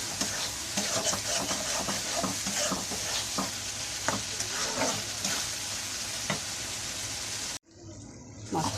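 Fish, likely pangas, fries and simmers in a pan with a continuous sizzle and repeated scraping stirs of a spatula, fairly close; the cooking sound cuts off abruptly near the end.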